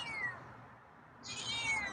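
A feral cat gives two short close meows, a falling cry followed by a brief pause and a higher second call, in a quiet setting.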